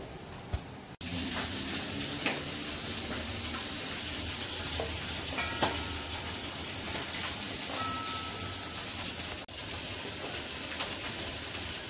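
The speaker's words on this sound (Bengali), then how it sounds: "আর যে মাছটা ভাজছি" Fish coated in salt, turmeric and chilli powder frying in a pan, a steady, low sizzling hiss throughout, broken by a few faint clicks and clatters.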